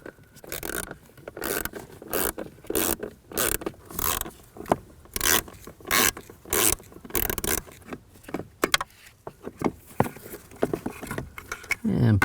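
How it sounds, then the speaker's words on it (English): Screws being backed out with a T20 socket from the blower motor module of a 2007-2013 BMW 328i, heard as repeated short bursts of ratcheting and metallic scraping, close and fairly loud, with no talking. "Now I'm going to use a T20 socket,"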